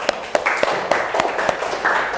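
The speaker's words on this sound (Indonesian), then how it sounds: "Tepuk tangan untuk kelompok 3." Scattered handclaps in a classroom after a student group presentation, a few sharp claps spaced unevenly over a low murmur of voices, brief and fairly close.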